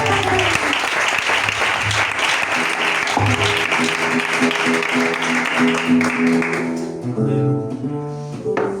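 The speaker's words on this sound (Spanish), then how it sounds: "Un fuerte aplauso a la palabra del Señor del pastor Jesús." A church congregation applauds loudly and steadily throughout, with organ or keyboard chords sounding underneath and holding on as the clapping thins toward the end.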